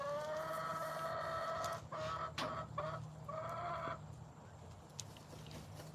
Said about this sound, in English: If he hears chick, he crows.